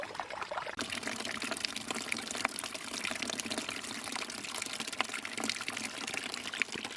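Rainwater pouring and trickling into a bucket at a rural finca during heavy rain, a constant close splashing stream with faint scattered drips, quiet and uninterrupted with no voices.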